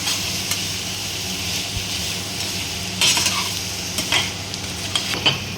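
Paneer, onion and coriander masala fries in a pan, a steady sizzle with several distinct spoon scrapes and stirring clatters near the end, close and alone.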